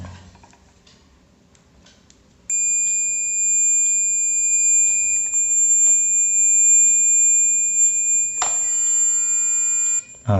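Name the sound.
multimeter continuity test beep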